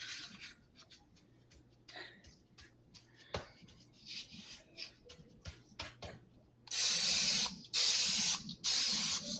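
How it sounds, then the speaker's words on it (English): Cooking spray hisses onto meat in three loud, sustained bursts near the end, preceded by scattered small clicks and scraping of kitchen handling. "Spray that meat."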